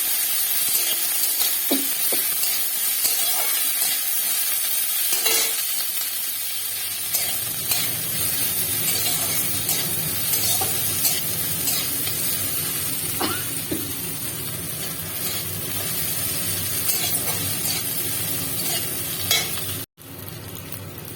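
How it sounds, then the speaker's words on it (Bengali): Onions fry in oil in a pan, giving a continuous close sizzle and hiss, with occasional utensil stirring scrapes and small clicks throughout. "দেখুন বন্ধুরা, পেঁয়াজটা ভাজা ভাজা হয়ে গেছে,"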